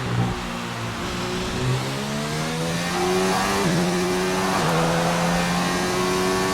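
A Formula 1 race car in a video game accelerates hard, its high engine note climbing through the gears with brief dips at each shift, loud and continuous throughout.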